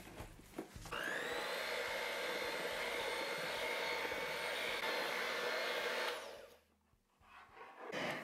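Electric hand mixer blending boxed chocolate cake mix with coffee and oil, a loud steady motor whine after a few clatters, running about five seconds before cutting off, followed by faint handling noises.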